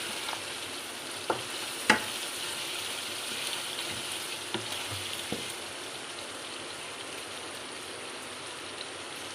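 Ingredients for mutton pulao sizzle and fry steadily in a pan, a continuous low crackle with a few sharp clinks of a spoon stirring against the metal, fairly close and without talk.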